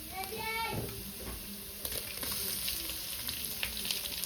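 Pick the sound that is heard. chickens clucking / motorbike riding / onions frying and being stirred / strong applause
onions frying and being stirred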